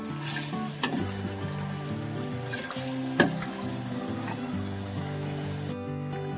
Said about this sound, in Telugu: చికెన్ అయితే ఫ్రై అవుతుంది కదా, బాగా ఫ్రై అయిపోవాలండి